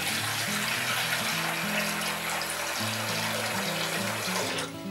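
Water gushes steadily into a tub meant for soaking a horse bit, a loud continuous pour with a low tonal hum underneath, tailing off slightly at the end.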